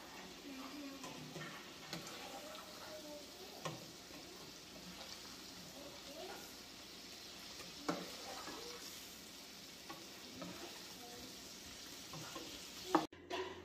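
Shrimp fry in a pan for creamy jalapeño spaghetti, giving a soft, steady sizzle with occasional scrapes and light clicks, faint and close, ending in a sharp clatter.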